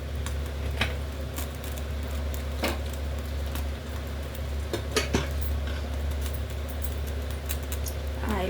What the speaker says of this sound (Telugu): ప్యాన్ పెట్టుకున్నాను. కొంచెం ఆయిల్ వేసుకున్నాం.